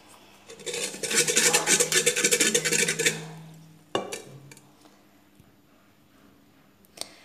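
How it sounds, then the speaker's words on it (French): Water, yeast and about five tablespoons of sugar stirred in a bowl with a utensil: close scraping and clinking for a few seconds, then a sharp knock, quiet pauses and a final tap. "Donc, je vais mélanger."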